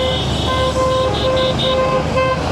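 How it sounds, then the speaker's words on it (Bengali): Vehicle horns toot repeatedly in a city traffic jam near a fuel pump, with several short honks and a longer blast over a steady rumble of idling engines and road noise. "কিন্তু এই জায়গায় যে জ্যাম, এই দেখেন"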